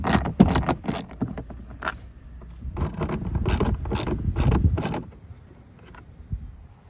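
A ratchet clicks in quick bursts while a 10 millimeter bolt is backed out of a Chrysler Pacifica door, with close mechanical rattles and pauses between turns and no talking.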